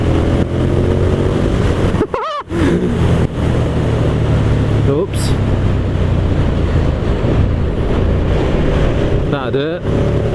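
A 173-horsepower motorcycle rides at speed over dirt, its engine a steady roar buried under heavy wind buffeting, with a few brief whistling gear or rev changes.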